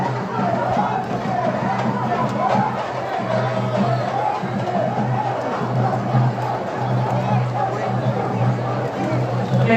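Devotees at a Mariamman temple festival, with milk pots and fire pots carried, make a dense continuous commotion of many voices, shouting and babble close by throughout.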